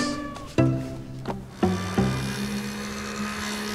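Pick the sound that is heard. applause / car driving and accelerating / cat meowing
cat meowing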